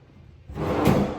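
A large drawer built into a family bed frame slides open or shut in a single smooth, fairly near movement, with no talking over it.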